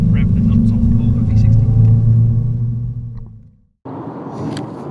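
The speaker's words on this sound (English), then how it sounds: "going to take us on a dual carriageway and rev the nuts off the Volvo" Volvo V60 engine revving hard on a dual carriageway, a loud low rumble with rising harmonics and road noise, dropping away briefly before the drone resumes.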